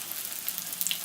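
Lokma dough balls frying in hot oil, a soft continuous sizzle with a few sharper crackles and pops near the end.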